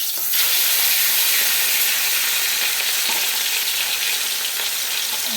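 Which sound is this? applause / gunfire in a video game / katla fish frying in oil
katla fish frying in oil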